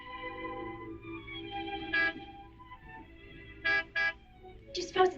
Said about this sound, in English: Martin would never honk the horn at a lady